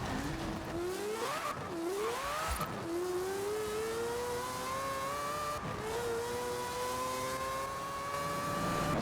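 A Mazda RX-3 in Forza Horizon 4 pulls hard through the gears, its engine note climbing in steady sweeps with brief dips at each shift, loud and continuous throughout.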